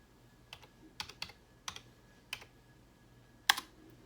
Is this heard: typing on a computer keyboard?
yes